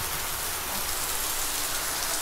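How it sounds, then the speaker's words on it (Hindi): Steady rain falling in a dense, even hiss that fills the whole stretch, close and continuous with no other sounds standing out. "बारिश हो रही है"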